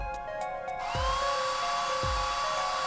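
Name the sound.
fake hair dryer sound effect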